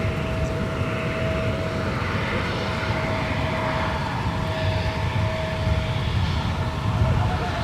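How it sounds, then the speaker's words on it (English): A Republic Airways Embraer 175 LR jet taxis at Minneapolis–St. Paul airport, its engines giving a steady, loud whine with a sustained tonal hum and broad rumble that holds throughout. "Republic Flight 3546 with an Embraer 175 LR off to Chicago O'Hare"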